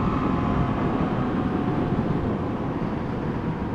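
A stock 2019 Honda Monkey motorcycle ridden flat out at top speed, a constant loud roar of engine drone and wind rush with no break.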